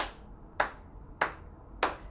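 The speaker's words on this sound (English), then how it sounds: "you're gonna hear four claps in the music" Four crisp hand claps in dance music, evenly spaced about 0.6 seconds apart, each a sharp bright snap with a short tail. The first is partly cut off at the start, and the claps stand alone against a quiet background.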